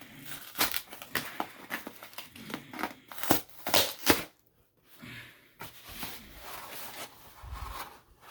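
Plastic packaging crinkles and tears in short, sharp bursts with pauses, handled close up at low volume.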